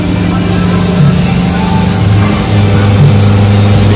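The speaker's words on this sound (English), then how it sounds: "Spindle head moves down." Mazak CNC vertical machining centre with its spindle head traversing down in rapid mode: a steady, loud mechanical whine and servo hum with tonal bands shifting slightly as the axis moves, no talking.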